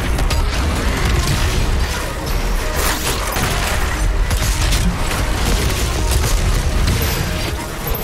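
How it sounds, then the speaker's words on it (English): Doom Eternal gameplay during an Arc Complex Slayer Gate fight, with quick weapon swaps and repeated shots: dense, continuous gunfire, booms and mechanical clatter run loud throughout with no pauses. "got a few weapon quick swap and pot shots off there"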